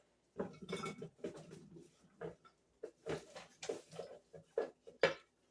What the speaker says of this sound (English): So I'm going to start by putting all these potatoes in.